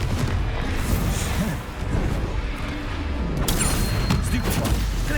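Confringo, an explosive fire spell cast in Hogwarts Legacy combat, gives a loud, dense barrage of booming blasts and rumbling impacts that barely lets up, with a sharper burst near the end.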